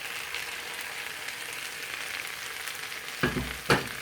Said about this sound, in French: je vais faire revenir environ 3 minutes